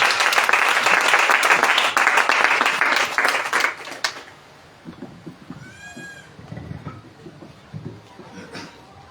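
A church congregation applauding at a French-language sermon, a loud burst of dense clapping that stops abruptly, followed by quieter scattered sounds and a brief bleat-like cry.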